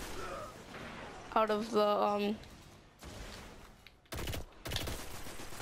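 Gunfire and a grenade blast sound in a Destiny Crucible match: a buzzing burst with a stepped electronic tone, then two sharp loud bangs, while a player talks over the action.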